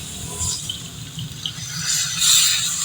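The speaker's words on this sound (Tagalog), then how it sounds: "dahil kulong-kulo na yan, lagyan lang natin yan ng tubig" Water pours into a pot of boiling pork buto-buto (pork ribs) stew, a steady splashing hiss over the bubbling simmer, moderately loud and close, with no talking.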